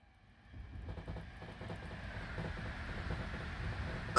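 A train passing in the SimRail railway simulator game, a broad rumble with faint rhythmic clatter that swells and grows louder as it approaches; no one talks.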